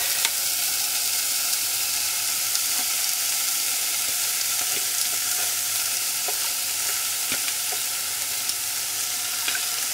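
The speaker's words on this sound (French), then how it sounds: "maintenant que mes oignons sont réveillés, je rajoute les courgettes" Courgettes sizzle loudly and continuously after being added to frying onions in a pan, with a few light clicks of stirring scattered through the steady hiss.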